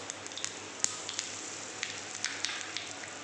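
Mustard, fenugreek and cumin seeds sizzle in hot oil for beetroot rasam: a soft, continuous frying hiss dotted with scattered sharp pops and crackles at an irregular pace.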